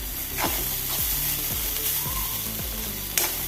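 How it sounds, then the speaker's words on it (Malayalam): Kerala-style bitter gourd thoran being stirred in a frying pan, a continuous close sizzle broken by repeated rhythmic scrapes of the spoon against the pan. "ഒന്നുകൂടി ഇളക്കി കൊടുക്കാം"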